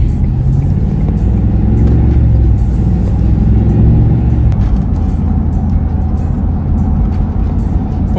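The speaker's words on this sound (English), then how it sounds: "There's a lot of traffic coming off the island today." Steady road traffic with cars passing close by on a busy route leaving an island, a continuous low rumble of engines and tires with no speech.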